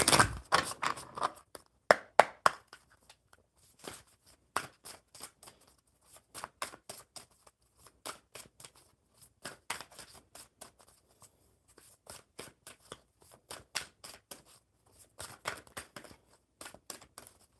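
Tarot cards being shuffled by hand in quick, crisp riffling bursts, close and fairly quiet, repeating in irregular clusters with short pauses and no talking.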